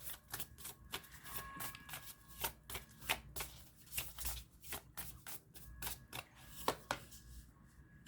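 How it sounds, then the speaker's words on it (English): A deck of Lenormand cards is shuffled repeatedly, a steady run of quick riffling snaps and soft slaps, close and fairly quiet. "Let me shuffle this."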